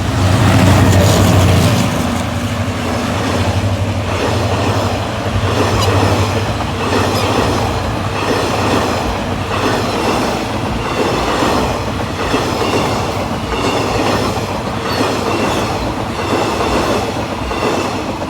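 A Hitachi 4518 diesel locomotive hauling special express train 31, Bangkok to Hat Yai, roars past close by: loud, sustained engine drone and rolling wheel clatter with rhythmic rail clicks throughout, without speech.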